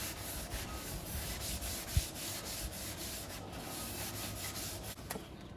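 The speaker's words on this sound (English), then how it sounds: "we're just cleaning it up with brake cleaner" Brake cleaner sprayed onto a Mercedes-Benz C Class W204 front brake, a steady close hissing spray lasting several seconds with a few light knocks, ending abruptly, no talking.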